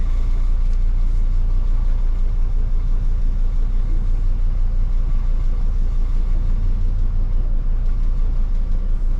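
Jeanneau NC 33 motorboat engine running at just over 4,000 RPM at sea, a loud, steady, dense rumbling drone that holds constant throughout, with no talking.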